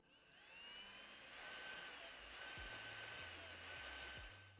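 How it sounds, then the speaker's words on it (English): A power drill with a 3/16 inch bit bores through a Tusk zipperless upper door on a Polaris RZR XP 4 1000 UTV, a steady high whine running throughout with slight swells in pitch, close and loud. "we're going to use a 3/16 inch drill bit to drill the center of that"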